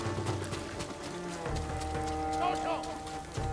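Horse galloping in Ghost of Tsushima: quick hoofbeats run under steady game music, with a voice talking over the action.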